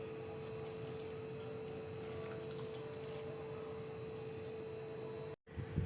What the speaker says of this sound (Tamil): ஆட்டுக்குடல் வேக வைக்கிறதுக்கு தேவையான அளவு தண்ணி ஆட் பண்ணிட்டேன்